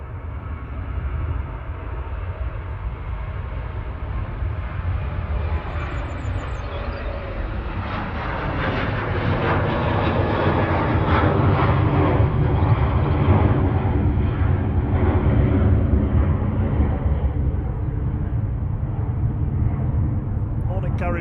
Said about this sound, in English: Right now on the roll to Dublin 9H QCK, flight 553.